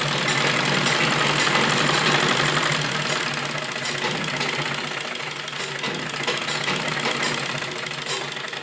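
A sewing machine runs steadily while stitching along the edge of a fabric strip for a kurti, making a continuous close mechanical whir and rapid needle chatter that eases slightly toward the end.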